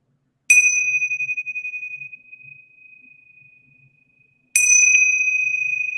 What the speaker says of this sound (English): I'm gonna let you start us off, Linda, with the bells.